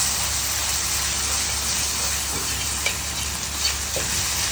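Kimchi fried rice with Korean chili sauce sizzles and fries steadily in a pan, a dense continuous hiss with faint scraping stir sounds, no talk.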